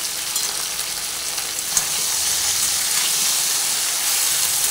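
Potato and okra fry together in a pan with a constant, dense sizzle, close and even, broken once by a soft stirring knock.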